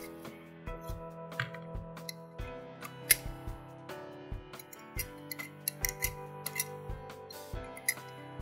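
RG6 coaxial cable insulation being cut with a hand tool, a series of sharp snips and clicks at irregular intervals, close and fairly quiet, with no talking.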